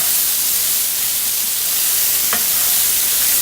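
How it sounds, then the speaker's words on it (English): About a pound of crimini mushrooms sautéing in butter and cooking oil for beef bourguignon, a dense steady hiss like loud frying, close and constant with one faint knock midway and no talk. "Now I'm sauteing some crimini mushrooms, about a pound, in some butter and cooking oil"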